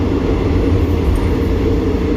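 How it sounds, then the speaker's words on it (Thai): Inside the dining car of a Thai express sleeper train, train 13 from Bangkok to Chiang Mai, in the morning: a constant low, rumbling rail drone throughout with no talk. "อันนี้คือบรรยากาศที่ห้องอาหารรถไฟตอนเช้าครับให้ดูบรรยากาศ"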